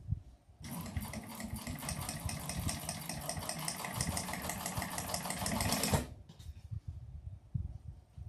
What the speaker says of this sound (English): I've top stitched down each side